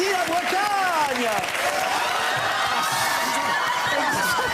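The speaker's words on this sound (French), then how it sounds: "On applaudit la Bretagne." Studio audience applause blends with a speaking voice and scattered chuckles, a continuous clapping texture under talk throughout.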